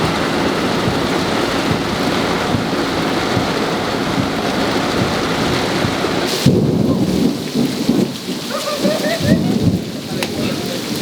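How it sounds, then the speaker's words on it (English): Heavy rain pours steadily, loud and close, with thunder booming partway through as the downpour briefly eases, then resumes. "There's a lot of rain if you couldn't tell."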